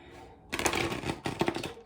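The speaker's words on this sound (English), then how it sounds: "that was a very terrible shuffle." Tarot cards riffled and shuffled by hand in a quick, loud burst of papery flutters, pausing briefly before a second flurry.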